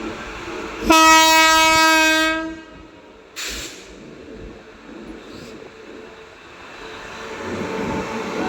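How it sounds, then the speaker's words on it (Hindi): Sapt Kranti Express approaching Sahibabad station in India, one long loud blast of the train horn, a shorter second blast, then a rising rumble of the train drawing nearer. "स्पेशल ट्रेन को सप्त क्रांति एक्सप्रेस ओवरटेक करने वाली है यहीं साहिबाबाद स्टेशन पे।"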